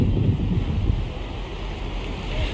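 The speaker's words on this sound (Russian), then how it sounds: "Море такое беспокойное сегодня из-за ветра" Strong wind buffets the microphone at a seashore while rough waves surge and wash in the background, a continuous roar with no speech.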